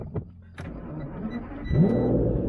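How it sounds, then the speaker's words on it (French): A V12 car engine cranks briefly, then catches and settles into a steady, loud idle rumble. "Alors, on va démarrer cette voiture."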